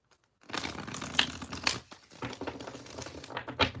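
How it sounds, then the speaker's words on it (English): A deck of tarot cards being shuffled by hand: crisp riffling and flicking bursts with short pauses after a brief silence, close to the microphone and without talking. "I've been guided to do one more shuffle."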